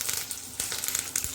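Curry leaves dropped into hot oil for a lotus yam dish give a close, bright crackling sizzle with quick pops and spits throughout the short stretch.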